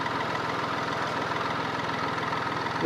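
A steady, low, rumbling diesel engine of a 2015/16 Hyundai Grand i10 Asta idles close by, with an even rhythmic knock throughout and no voices.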